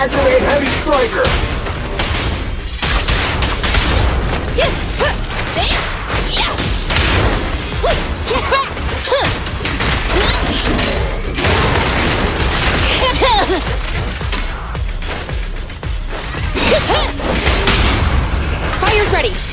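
Heavy Striker weapon in Zenless Zone Zero fires amid a dense, continuous barrage of booms, bursts and crashing impacts, loud and layered with game music and voiced combat lines throughout.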